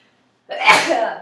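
One sharp, loud sneeze bursts out after a short silence, close to the microphone, and fades over about half a second.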